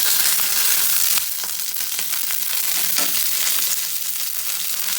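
Garlic, red chili and curry leaves fry in hot oil over a lowered flame for an okra and coconut stir-fry, making a loud, continuous hissing sizzle with a few crackles.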